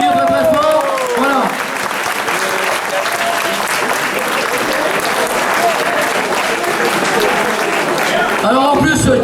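Loud, sustained audience applause at an FSGT cycling club awards evening, dense clapping from a large crowd with voices talking and calling out over it throughout.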